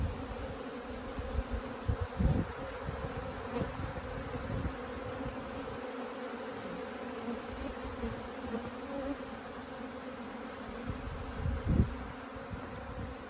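Native honeybees from a rescued hive in Mallorca, Spain hum in a steady, dense buzz throughout, with swells and brief louder passes as insects fly near, and no talk over it.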